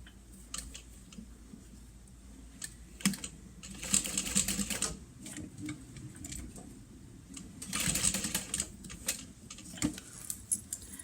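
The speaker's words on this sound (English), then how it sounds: "I'm going to top stitch both this side and this side" A sewing machine top stitches a lunch box, its motor whirring in faint bursts with rapid needle clatter, pausing and restarting, plus scattered clicks and light rattles of handling between runs.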